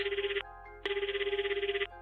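An outgoing phone call rings back with a warbling electronic tone, two bursts separated by a short gap, steady and fairly loud, with no voices.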